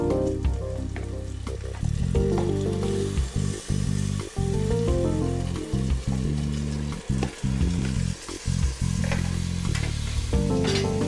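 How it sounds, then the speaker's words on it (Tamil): Marinated mutton fries in a pan for a biryani, giving a loud continuous sizzle with bursts of crackle and stirring scrapes throughout. "இப்போ நம்ம ஊற வச்சுருக்க மட்டனை இதில் போட்டுக்கலாம்."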